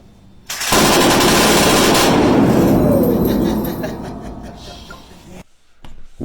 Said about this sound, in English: So they had us out there shooting Gatling guns.